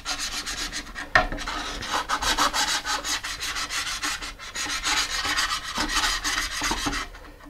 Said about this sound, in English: I've wrapped some sandpaper around it so I can get in and scuff it up